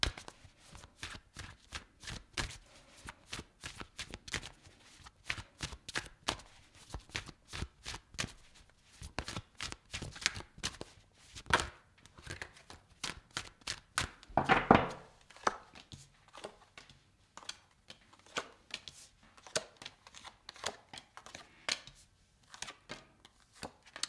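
Tarot cards are shuffled and drawn by hand, a quiet, close run of crisp flicks, riffles and soft slaps that come in quick bursts and brief pauses, with no voices.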